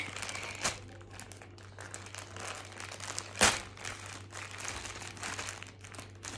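A package is unwrapped by hand to reveal a pop-it toy, with close, quiet crinkling and rustling of packaging and one sharper crackle midway.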